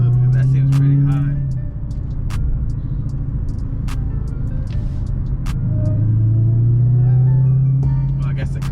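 A warmed-up 2020 supercharged car engine idles with a new Legmaker intake fitted and the AC on. It makes a loud, close rumble with a steady tonal whine that rises and settles as it revs, and a voice speaks over it.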